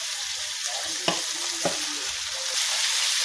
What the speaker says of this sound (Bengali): আবার আমি মরিচ রসুন পেঁয়াজগুলো একটু ভাজা করে নেব।